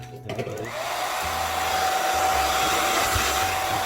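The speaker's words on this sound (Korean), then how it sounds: "드라이기 코드를 꽂고 한번 해볼게요" A plugged-in handheld hair dryer, drawing about 1400 watts on its hot setting, kicks on after a brief rustle and then blows with a steady, loud, close whir and a thin whine that holds to the end.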